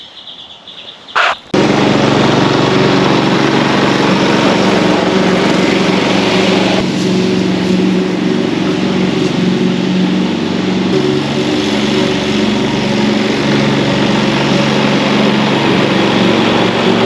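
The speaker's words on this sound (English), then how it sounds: "Gonna do a bit of mowing today, a bit of yard maintenance." A lawn mower starts up after a short sputter, then runs loudly and steadily close by during yard maintenance, its engine drone constant with slight shifts in pitch.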